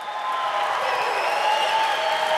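Church congregation applauding during a sermon, a steady dense patter of clapping hands that holds evenly at moderate loudness for the whole stretch, with no talk over it.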